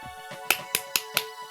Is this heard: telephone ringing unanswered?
no